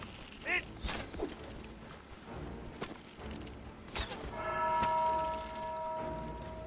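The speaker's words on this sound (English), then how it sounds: "Ring the bell!" An alarm bell in the game Sherwood Builders rings out with a sustained metallic tone amid clanks, thuds and scattered impacts during a siege, fairly faint, with no clear talk.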